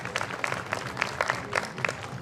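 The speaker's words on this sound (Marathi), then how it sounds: "खूप जोरदार टाळ्या या टीमकरता आपण वाजवल्या" A crowd at a Jain Social Group installation ceremony applauds, with scattered, moderately loud claps in an irregular rhythm and no clear talking.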